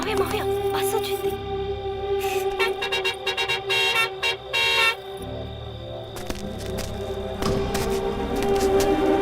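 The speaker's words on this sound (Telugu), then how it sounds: "మావయ్య బస్సు వచ్చింది." A bus honks its horn in several loud toots while its engine rumbles nearby, with excited voices talking over and between the blasts.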